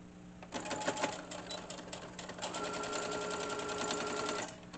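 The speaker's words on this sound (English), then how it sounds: "I'm just going to sew down the middle." Sewing machine stitching a straight seam down the middle of fabric for a tea bag wallet: a fast, steady mechanical whir of rapid needle strokes, close and loud, starting briefly and then running evenly for several seconds before stopping.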